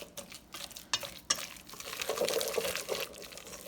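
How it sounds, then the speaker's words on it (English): A whisk mashes and stirs chunky guacamole in a bowl, giving wet squelching scrapes that build into steady continuous mixing, close and moderately loud with no talking. "now I'm going to use my whisk to give it a little stir, just to kind of mush it a little bit"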